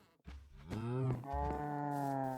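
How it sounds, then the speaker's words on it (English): A Minecraft cow in a pen gives one long, close moo that swells and holds, heard alone with no talking. "this is my cow pen"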